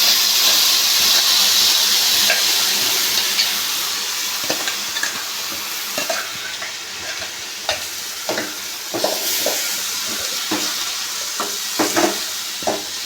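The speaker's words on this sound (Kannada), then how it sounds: "ಸಾಸಿವೆ ಚಿಟಪಟ ಅಂತ ಸಿಡಿಬೇಕು" Mustard seeds spluttering in hot oil for a tempering while making raw mango gojju, a continuous sizzle broken by sharp irregular pops and crackles, close and loud, fading slightly as it goes.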